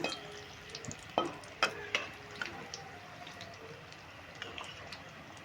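Crispy evening snacks sizzle in hot oil while being flipped one by one, with a steady frying hiss punctuated by several sharp clinks and scrapes of the utensil against the pan.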